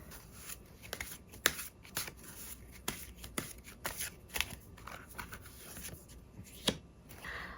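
Tarot cards are shuffled and handled close by, with quiet papery riffles and sharp card snaps at irregular intervals.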